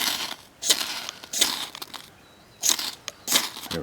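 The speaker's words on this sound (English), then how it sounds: "So I can scrape this with the sharp edge of the glass and affect the same thing and get myself a pile here." Dry fungus tinder is scraped with the sharp edge of a piece of glass, giving four short, crisp rasping strokes at an irregular pace, close and fairly loud, separated by near silence.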